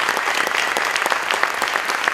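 Audience applauding steadily at a Roman Week talk in Cascante welcoming television presenter Félix Linares, dense clapping from a hall crowd throughout with no speech.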